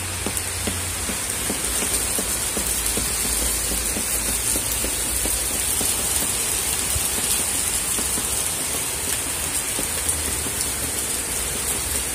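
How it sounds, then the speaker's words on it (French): Heavy wind-driven rain during a violent Cévennes storm hisses and pours steadily and loudly on surfaces, with dense patter and a low rushing wind underneath, unbroken for the whole stretch. "Oh là là, la pluie, elle est carrément balayée la pluie."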